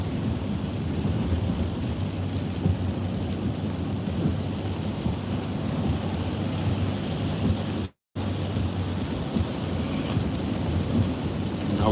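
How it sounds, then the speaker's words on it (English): Rain falls steadily on a car being driven through a storm, a constant dense wash with low road rumble underneath and a brief dropout near the end. "I'm just driving through the rain,"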